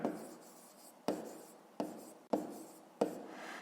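A pen scratches across paper while math exercise answers are written down. Five distinct close strokes come in uneven rhythm, each starting sharply and fading, in a quiet room.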